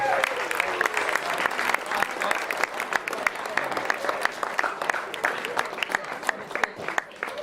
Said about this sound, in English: Can I actually give him an extra round of applause for our best man tonight?